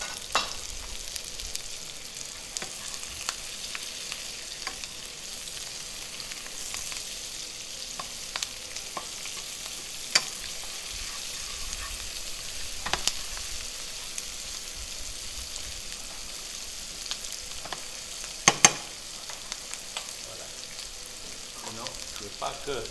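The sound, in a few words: asparagus, garlic and onion frying in a pan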